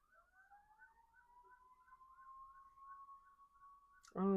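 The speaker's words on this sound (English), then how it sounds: "I don't know if y'all can hear the sirens going off in my background." Sirens wailing far off in the background, a faint, steady rising tone with a warbling pulse that holds for several seconds before a sudden loud nearby knock cuts in.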